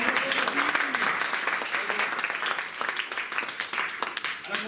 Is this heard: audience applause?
yes